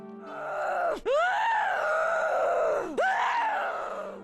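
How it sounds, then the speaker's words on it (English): A witch's cry from a video game: two drawn-out, wavering moaning wails, each starting with a sharp rising sob, loud and close with no other sound. "the witch's cry is definitely one of the worst things to hear in a video game"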